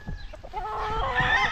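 Brood stag roosters at a game farm cluck and call in short bursts, close and fairly loud, with no talk over them.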